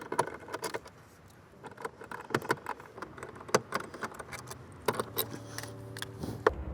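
Four 10mm bolts being removed during an amp install on a 2024 Toyota Tacoma JBL model, heard as scattered metallic clicks, ratchet ticks and clinks of tools and loose parts, close and fairly quiet, with no talking.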